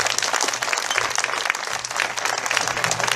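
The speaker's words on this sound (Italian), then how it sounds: "un grande applauso" An audience at the presentation of a national festival in Italy breaks into a loud, sustained round of applause, close and continuous, with a low hum underneath.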